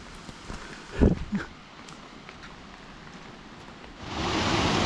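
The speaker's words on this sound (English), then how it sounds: "Unfortunately, the rain has been a constant companion." Steady rain patters in the background on a rural Portuguese quinta in November, swelling into a heavier, louder downpour near the end, with a few brief knocks early on.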